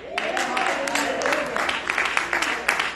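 A few scattered claps from a church congregation during a Sunday service ring out over a steady voice talking, sparse and uneven rather than a full round of applause.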